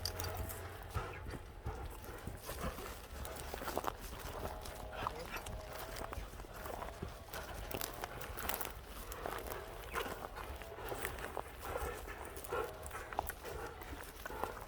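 Hooves of a horse moving at an ambling walk, a steady clopping rhythm on firm ground heard close, while people talk over it throughout.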